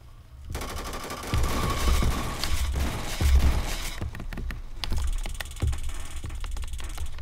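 Rapid automatic gunfire from an AK rifle in a prison video game, loud sustained bursts of shots with clattering impacts, pausing briefly before another burst of rattling fire.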